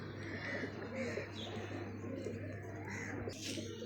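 Pigeons coo and chirp at moderate distance over a steady low hum, with a brief flutter near the end, as a female pigeon from Gujarat arrives at the loft; a faint voice is barely present.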